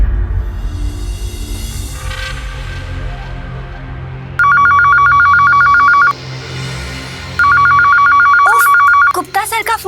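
A telephone ringing with two long electronic bursts of rapid trilling tones, loud and close, after a stretch of quiet room sound, with brief voices at the end.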